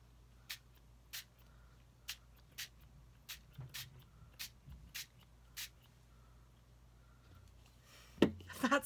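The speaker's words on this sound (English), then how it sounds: "And you literally just have to spray." Ink spritzed onto ribbon from a small spray bottle, a series of short, evenly spaced hissing puffs close up and fairly quiet, ending in a brief rustle.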